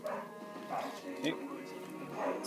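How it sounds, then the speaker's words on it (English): A pet dog barking repeatedly indoors, quick yappy barks at moderate distance, mixed with someone talking over them. "Apologise for my dog barking, he gets like that for some reason."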